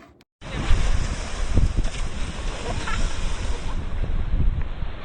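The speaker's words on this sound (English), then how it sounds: "my tour guide Mark, we went swimming in the Atlantic Ocean." Cold Atlantic Ocean water at about 15 °C sloshing and surging around a swimmer, a steady broadband wash of waves with wind buffeting the microphone, close and fairly loud throughout.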